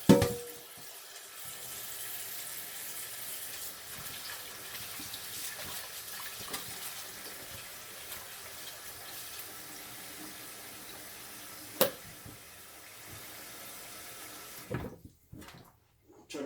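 Tap water running into a cooking pot in a home kitchen, a steady rushing splash that carries on for most of the stretch, with a sharp knock partway through before the flow cuts off near the end.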